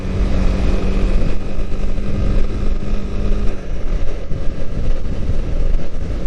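A Honda CB250R motorcycle on the move, its engine a steady droning rumble mixed with heavy wind buffeting on the microphone, holding a constant pitch before shifting slightly as it pulls harder.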